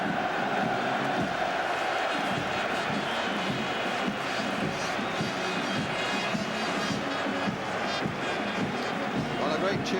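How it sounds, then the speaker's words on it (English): Crowd of West Ham fans cheering at Wembley during the 1980 FA Cup Final against Arsenal as their team comes out of the tunnel, a steady, dense roar of distant voices filling the stadium throughout. "a great cheer from the West Ham fans behind that tunnel as their team come out"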